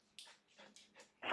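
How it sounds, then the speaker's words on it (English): A dog lets out a few faint, high whimpers and breathy whines in quick succession, ending with a louder burst, heard indoors at low level. "Ah, the dog hears a dog."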